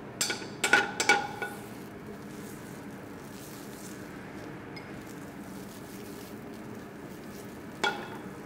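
Butter sizzles in a frying pan for an omelet, a soft steady hiss running throughout, with a few louder clinks and scrapes of utensils near the start and one more near the end.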